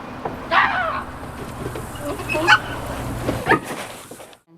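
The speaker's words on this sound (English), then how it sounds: "a large flock of giant birds seems to be attacking the vehicles" Large birds attacking vehicles on a bridge, heard as three harsh, squawking bird cries spaced over a few seconds above a low rumbling background.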